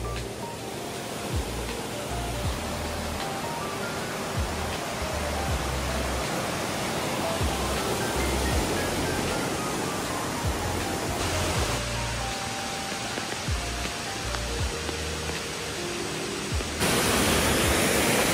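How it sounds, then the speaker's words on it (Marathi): A village waterfall swollen by May rains roars with a dense, steady rush of falling water. The sound is loud and unbroken throughout, with no clear voices above it. "तर बघू शकता आहे आमच्या गावातील धबधबा, अगदी 2 मिनिटावरच आहे"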